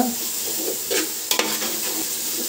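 Spices frying in hot oil for hotel-style chicken biryani, a steady close sizzle with a couple of quick stirring scrapes and a brief knock partway through, without talk.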